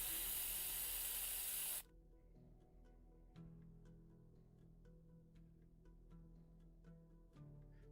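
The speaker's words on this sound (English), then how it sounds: "He thinks for a moment, then squints and pulls out a red spray paint can." A red spray paint can used for graffiti in Arknights releases a loud, steady hiss for about two seconds, then cuts off abruptly, leaving quieter music behind.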